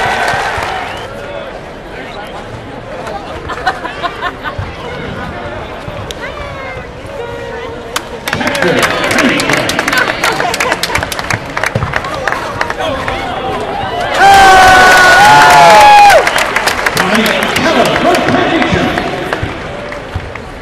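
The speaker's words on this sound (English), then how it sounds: "keep cheering for the Illini" A large crowd fills a basketball arena at a record-setting practice session, with a steady roar of voices that swells louder partway through and peaks near the end, punctuated by whistles and sharp clatter.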